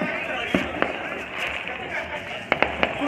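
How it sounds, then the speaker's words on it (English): Fireworks going off outdoors on the Fourth of July, a few sharp distant bangs and pops spaced apart over a steady background hiss, with people talking and reacting nearby. "Some fireworks right now."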